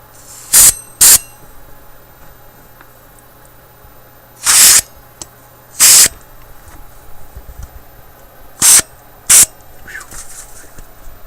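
Six short bursts from a spray can of cleaner onto Philips 922 vacuum tube radio parts hiss in pairs, separated by pauses filled with faint background noise.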